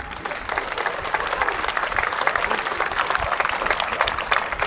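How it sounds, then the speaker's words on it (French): Roughly 1,500 people at a centenary show applaud the teams, a steady, even roar of clapping from a large crowd in a hall, sustained throughout. "Vous pouvez applaudir l'ensemble des équipes"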